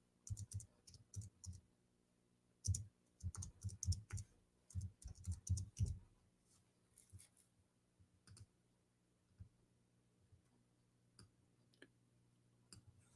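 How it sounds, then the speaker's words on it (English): Bursts of clicking keystrokes on a computer keyboard, fast and close in the first six seconds, then sparse single taps trailing off into a quiet room. "I'm typing in English."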